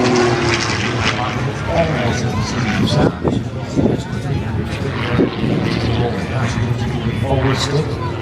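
Aerobatic propeller airplane performing a maneuver at an air show, engine drone steady throughout and loud, with a person talking over it much of the time.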